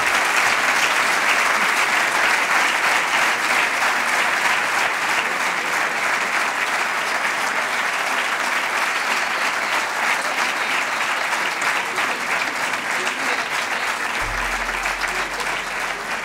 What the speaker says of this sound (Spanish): Se retira Andrés Iniesta, que agradece la ovación del público.